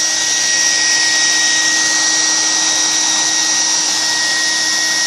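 Hair dryer blowing on acrylic yarn crochet to block it, a steady close whine and rush of air that holds at one level without a break.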